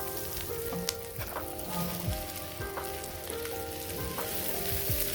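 Onions and apples sauté in a pan with a steady, close sizzle and frying crackle, plus a few brief tool clinks against the pan across the five seconds, no voices.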